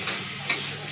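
Boiled Maggi noodles being stir-fried with soy sauce, a soft sizzling hiss with two quick scraping stirs of a utensil in the pan, brief and moderately quiet.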